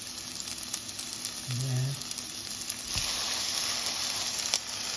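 Ingredients sizzling in olive oil in a skillet, a steady broad hiss running throughout at moderate level, with someone briefly speaking over it.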